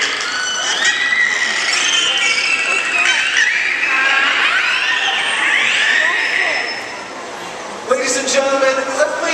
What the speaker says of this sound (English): Now the beluga whales want to say goodbye in their very distinctive way